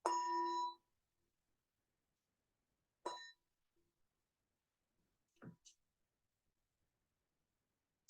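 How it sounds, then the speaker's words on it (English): Meditation bell struck once, a bright ringing tone that fades within a second, then another shorter strike about three seconds later, followed by faint small clinks and rustles in otherwise quiet surroundings. "So again, the bell is the invitation to come inwards"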